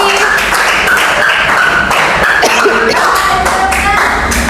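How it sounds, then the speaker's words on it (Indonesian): A classroom group gets a round of applause, steady clapping and tapping from many hands filling the room throughout, with some voices mixed in. "Kasih aplaus untuk kelompok liputan 6"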